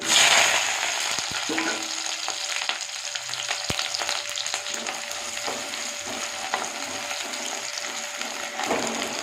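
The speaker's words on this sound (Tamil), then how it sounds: "வெங்காயம் கொஞ்சம் நேரம் வணங்கட்டும்" Onions and curry leaves fry in hot oil with popped mustard seeds, giving a continuous close sizzle and crackle that stays steady throughout, with no voices.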